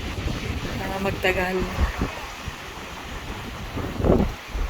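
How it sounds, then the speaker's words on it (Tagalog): Strong wind buffets the microphone beside choppy waves at Sylvan Lake, a constant loud rushing roar with a surge near the end, while a person speaks briefly over it. "Sobrang lakas din ng hangin."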